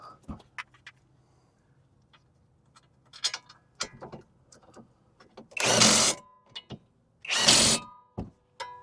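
Impact wrench driving the two 15mm caliper bolts back in on a 2011 Chevy HHR during wheel bearing work, heard as two loud, close bursts about a second long with small clicks and handling noises between them.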